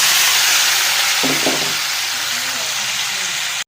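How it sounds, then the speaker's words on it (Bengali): Steady bright sizzling of cut potatoes frying in hot oil fills the clip, with a brief clatter of stirring midway before it cuts off. "এবার এই আলুটা কাটা আলুটা গরম তেলে ভেজে নেব"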